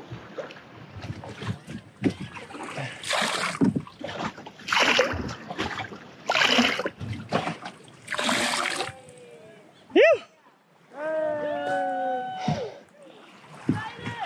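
Kayaks paddled on salt water toward a remote coral sand cay, with rhythmic bursts of paddle strokes and splashing, wind buffeting the microphone, and a few whistling cries near the end.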